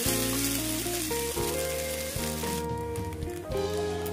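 Boiled chowmein noodles frying in oil in a wok give a loud, steady, dense sizzle that crackles without pause, close up and with no voices.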